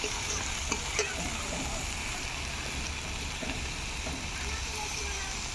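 Fenugreek greens frying in oil as chopped tomato goes in, a quiet, even hiss of sizzling with a few faint stirring taps.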